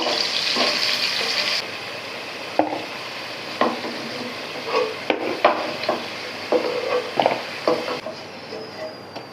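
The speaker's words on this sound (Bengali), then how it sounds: "এখন হচ্ছে আমি আলুগুলাকে নেড়ে চেড়ে ভেজে তুলে নেব।" Potatoes seasoned with turmeric and salt fry in a pan while being stirred, a loud continuous sizzle with repeated scraping and knocking strokes of a spatula at an uneven rhythm, close up, with no voices.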